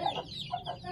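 Chickens on a Bangladeshi poultry farm give short, close clucking calls in a few quick bursts, with no talking.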